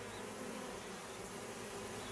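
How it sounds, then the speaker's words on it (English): A honey bee swarm being shaken from a branch and captured into a box in the evening gives off a steady, dense buzzing that stays even and close throughout, with no voices. "I'll shake the rest of the bees off that branch again here in a minute."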